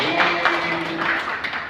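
An audience claps through a teachers' debate class at a Jakarta school, lively and continuous, with a voice and a steady tone running under the applause.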